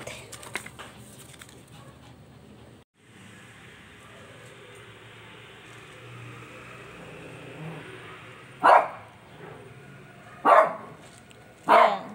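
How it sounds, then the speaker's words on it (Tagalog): A quiet room with a low engine hum, then three loud, sharp dog barks spaced a second or two apart near the end, from a dog recovering from a blood parasite. "Narinig yung tahol niya. Nagtatatahol na siya."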